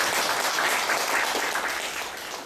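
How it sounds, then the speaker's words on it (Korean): Crowd applause at a union executive election policy debate, a dense, even wash of clapping that holds steady, then tapers slightly toward the end. "두 분께 힘찬 격려의 박수를 좀 부탁드리도록 하겠습니다"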